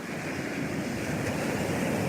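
Ocean waves crest and wash onto the beach at Vilano, a steady broad roar of surf mixed with wind buffeting the microphone, continuous and fairly close with no voices.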